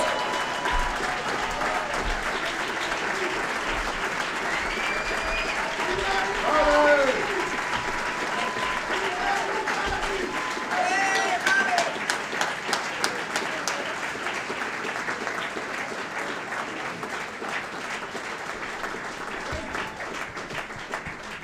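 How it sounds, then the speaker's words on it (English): A lecture-series audience applauds to welcome the speaker, sustained clapping from a large crowd lasting over twenty seconds, with a person speaking over it at times. "Give Bobby Seale a round of applause."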